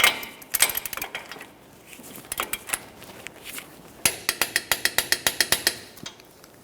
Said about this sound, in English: Let's get this torqued.